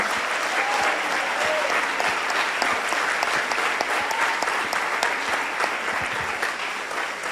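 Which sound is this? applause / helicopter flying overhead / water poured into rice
applause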